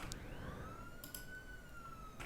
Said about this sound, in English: Actually, I have like this siren sound, I think, in the build-up that I could use.